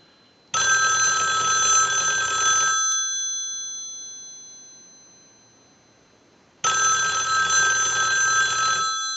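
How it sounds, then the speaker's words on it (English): An old country-line wood wall telephone rings its bell twice, driven by an analyzer's ring cycle, each ring a loud, sustained metallic clangour of about two seconds with a long silent gap between. "we're going to send a ring cycle, so we'll start that ring cycle"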